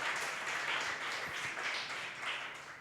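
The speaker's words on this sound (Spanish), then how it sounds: "Dele un aplauso a ese Dios maravilloso" A church congregation applauds during a Spanish-language sermon, a steady wash of many hands clapping at moderate distance that continues evenly throughout.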